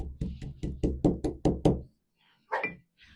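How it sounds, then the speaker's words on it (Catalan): A picada of almonds and chocolate being pounded in a mortar, about eight sharp, evenly spaced knocks in quick succession, then a pause and one more thud, loud and close with no talk. "Sóc jo, que estic fent una picada."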